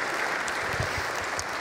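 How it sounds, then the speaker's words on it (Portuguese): A comedy show crowd in Guimarães applauds, a steady wash of clapping heard from a distance at low level without a break. "uma salva de palmas para vocês"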